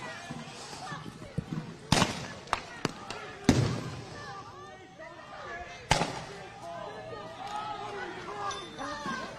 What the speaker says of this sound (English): agents responding with another round of tear gas and flashbangs